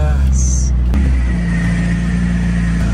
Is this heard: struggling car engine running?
yes